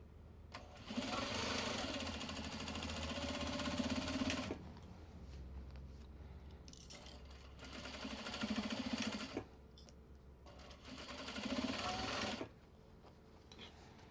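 Sewing machine stitching Japanese fabric bags, whirring loudly in three sustained runs of several seconds each, separated by quieter pauses with faint handling sounds.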